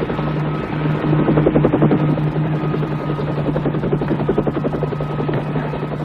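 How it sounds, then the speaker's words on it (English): A helicopter's steady rotor drone and whine, loud and close, with a pulsing thrum that holds throughout without any talk. "Look! Wow! A helicopter!"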